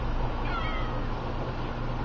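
A mother cat meows once, fairly close, over a steady low background hum.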